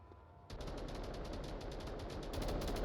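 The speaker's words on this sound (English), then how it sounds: "Gunfire coming out." Gunfire in the VR shooter game Onward during a competitive match: after a brief quiet moment, rapid bursts erupt and continue steadily, dense automatic shots rattling loudly without pause.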